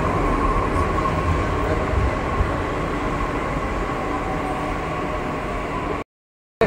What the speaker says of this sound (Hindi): और हमारी मेट्रो आ चुकी है